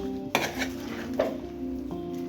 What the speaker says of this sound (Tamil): இப்போ நான் இதை மிக்ஸ் பண்ணும்போது ஸ்டவ் ஆஃப் பண்ணி வச்சுருக்கேன்